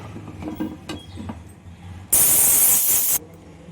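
A pressure cooker of dum vangi bath (brinjal rice) with tomato lets out a loud, steady hiss of steam lasting about a second, following quieter kitchen clatter.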